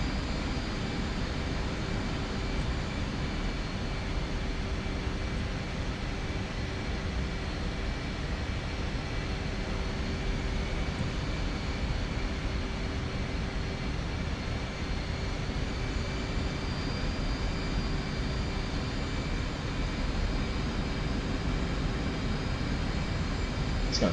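Steady, unbroken jet engine roar of an F/A-18 in flight in the DCS World combat flight simulator, a continuous dense drone with a faint high whine, heard alone without talk.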